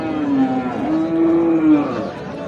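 A Sahiwal cow lets out a long, loud moo that rises and holds, close by, with faint background noise.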